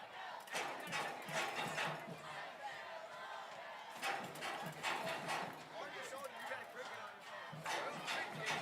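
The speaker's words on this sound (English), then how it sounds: "This is a loud, partisan crowd over there." A loud, partisan crowd roars and cheers in a stadium during overtime of a Texas UIL 4A Division 2 high school football game between Lago Vista and Salado. The steady crowd noise swells in waves beneath a commentator's continuous talk.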